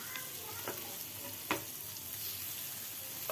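An egg fries in a pan after the lid is lifted and it is turned over, with a steady, fairly quiet sizzle throughout and one short scrape of the spatula midway.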